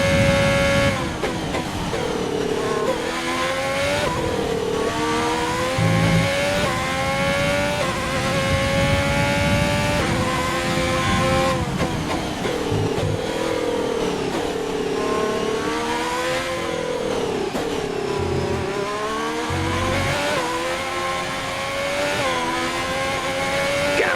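Formula 1 race cars in the F1 2020 video game scream through a final lap at the French Grand Prix, their high engines rising and falling through repeated upshifts and downshifts over about 24 seconds, with no voices.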